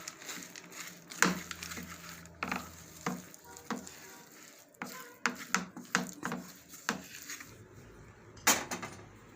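Chana dal mixture being stirred in a pan for ladu, with a spoon scraping and knocking against the metal in irregular bursts, fairly close and quiet with no talking.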